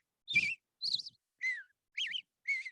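A person whistles an imitation of an American Robin song: five short, clear warbling phrases spaced about half a second apart, each rising and falling, close and fairly loud with silence between.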